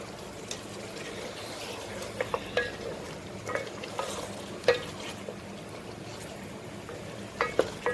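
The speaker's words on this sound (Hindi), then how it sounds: "देखिए चिकन को हम अच्छी तरह भूनेंगे इसका रंग चेंज होने तक" Chicken fries in a pan for a tinda curry, a soft continuous sizzle with occasional scrapes and knocks of a spoon stirring the pieces, close and moderately quiet with no talking.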